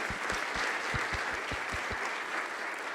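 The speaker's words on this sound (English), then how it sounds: "an extra round of applause for that poem" An audience claps steadily in applause after a poem reading, a dense continuous patter of many hands throughout with no voices rising above it.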